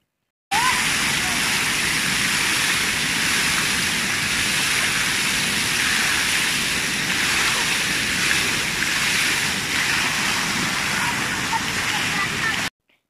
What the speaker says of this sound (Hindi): पानी की आवाज़ सुन के आपको पता चल रहा होगा कि ये कितना तेज़ पानी कितनी ज़्यादा स्पीड में आ रहा है